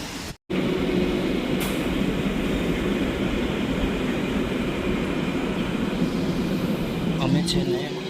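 Train at a London railway station, a steady loud rumble and rolling hum running throughout, with a brief drop at the start and passing clanks near the end.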